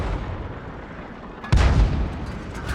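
A single deep tank cannon blast in World of Tanks booms out after a quiet stretch, its heavy rumble lingering and fading over the next second.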